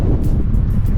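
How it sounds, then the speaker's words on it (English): Strong wind buffets the microphone during a cross-country cycling trip in the Texas countryside on Route 66, a loud, continuous low rumble with gusty swells and no voice. "It's still pretty windy."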